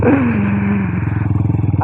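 An adventure sports motorcycle rides along a coastal bay walk with a loud, close engine drone that pulses in a steady rhythm. A voice speaks briefly over it at the start.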